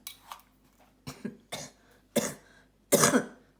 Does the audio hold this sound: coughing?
yes